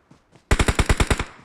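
A fast, loud burst of about eight evenly spaced automatic gunshots in a shooter video game, preceded by two faint distant shots.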